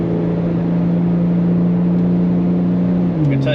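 An INEOS Quartermaster petrol engine pulls steadily with a sustained, even drone heard from inside the cab, and the pitch drops slightly near the end as a gear changes.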